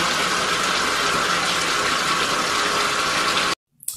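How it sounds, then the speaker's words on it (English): Hot water gushes steadily into a bathtub with a constant rushing roar, then cuts off abruptly near the end. "we're gonna fill this bathtub"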